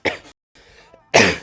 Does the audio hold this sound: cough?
yes